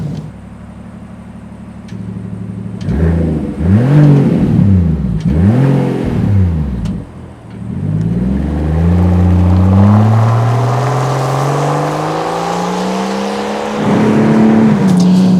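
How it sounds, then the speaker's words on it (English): A Rolls-Royce Cullinan Series II V12 engine (about 700 hp, stock-like exhaust) revs up and down several times with a deep exhaust note, then settles into a smooth, steady drone that slowly climbs in pitch. No voices. "you have still that smooth, stock-like exhaust sound, what a typical Rolls-Royce sounds like"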